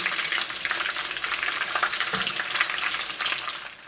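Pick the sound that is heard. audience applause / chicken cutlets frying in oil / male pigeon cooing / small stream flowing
chicken cutlets frying in oil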